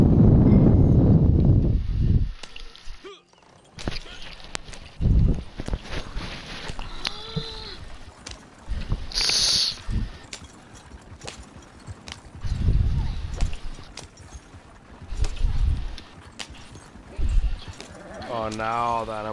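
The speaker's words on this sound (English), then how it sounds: "Oh, my horse." Horse hooves clip-clop intermittently in Red Dead Redemption 2, mixed with animal bleats and other game sounds. Someone talks over parts of it.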